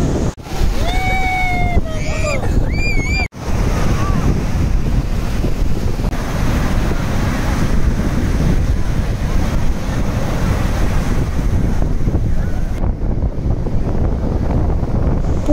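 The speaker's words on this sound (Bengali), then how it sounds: "সমুদ্রের জলে সেই সুন্দর ঢেউগুলোকে উপভোগ করতে।" Ocean waves rolling in at Puri beach, a constant broad wash of surf with heavy wind buffeting on the microphone and a few brief whistle-like tones near the start.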